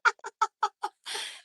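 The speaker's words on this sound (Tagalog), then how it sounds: "mga manok natin, nagtutukahan na" Two chickens squabble and peck at each other until their faces bleed, giving five short, evenly spaced clucks close by, followed by a harsher, noisier scuffle squawk at the end.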